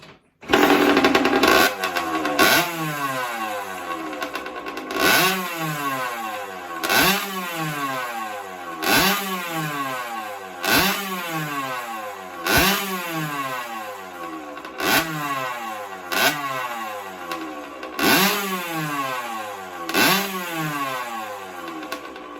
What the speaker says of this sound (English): we'll get her fired up now for you. You can hear her running. She sounds great.